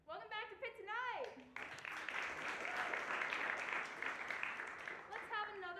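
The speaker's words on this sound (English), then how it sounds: "Let's have another round of applause for Pitt Stains." A studio audience at a late-night talk show, Pitt Tonight, breaks into a sustained burst of applause between stretches of a host talking, the clapping dense and steady for several seconds.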